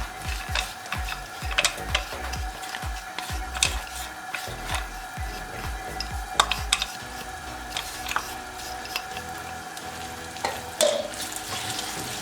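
Ground walnuts roasting and being stirred in hot ghee for walnut halwa, giving a steady soft sizzle with repeated scraping strokes of a spoon against the pan, close and moderately quiet, no talking.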